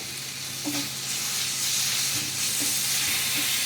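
Masala paste with cumin and coriander powder fries in a little oil in a pan, a close, continuous sizzle that swells with occasional stirring scrapes and no talk.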